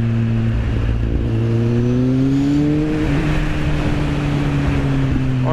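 A Kawasaki Z1000 motorcycle accelerates hard to overtake on the road, its engine note climbing and shifting loud and close over steady wind rush.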